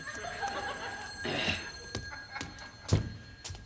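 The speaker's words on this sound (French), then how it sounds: "Ah, le bon vieux téléphone." A telephone bell rings in short bursts, mixed with a few dull knocks and clunks nearby.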